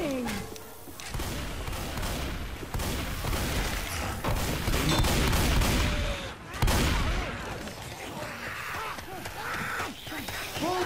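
Gunfire in a team shooter game on the Parish map crackles in repeated loud bursts and volleys, with a deeper boom partway through and faint player voices and gasps mixed underneath.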